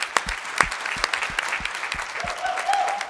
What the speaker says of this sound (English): So big applause to the Connected Sensing team